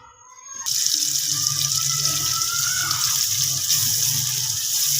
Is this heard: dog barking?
no